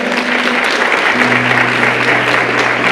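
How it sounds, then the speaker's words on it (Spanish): A congregation at a church sermon claps steadily and loudly, a continuous wash of applause with a low tone humming beneath it. "vamos a darle un aplauso"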